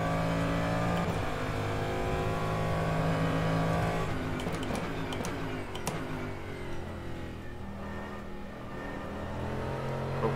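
Race car engine in rFactor 2 at the laser-scanned Daytona circuit at sunset, a loud steady drone with layered engine harmonics that shift pitch around four seconds, as if changing gear or speed, with no talk.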